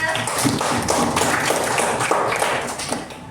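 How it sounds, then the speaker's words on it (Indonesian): A class of students applauds their classmates with a close, busy rattle of many hands clapping, holding steady and fading slightly near the end. "Beri tepuk tangan teman-temannya."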